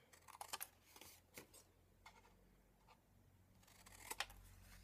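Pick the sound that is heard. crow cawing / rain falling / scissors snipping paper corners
scissors snipping paper corners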